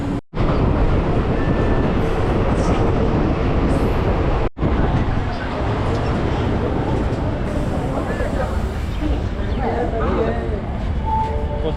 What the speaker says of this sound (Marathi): चला, आता आमची मेट्रो आली आहे.